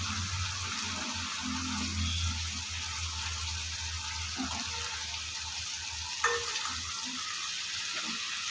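Pangas and tengra fish fry in spiced oil with a soft, continuous sizzle over a low hum, plus a single faint knock near the end.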